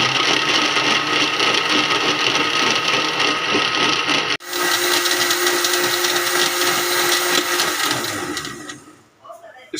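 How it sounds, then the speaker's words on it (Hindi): Kitchen blender whirring loudly as it blends falsa berries, lemon and mint into juice, cutting off abruptly partway, then starting again and running steadily before winding down at the end. "ब्लेंडर को अभी चला देंगे।"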